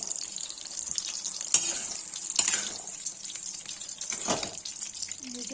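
Greens sizzle and crackle in a hot pan for Kashmiri-style kohlrabi haakh, with a steady bright frying hiss and a few louder pops.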